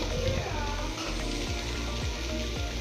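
Okra frying in a pan over a low flame for a garlic lady's finger gojju, giving a steady close sizzle with faint stirring scrapes throughout.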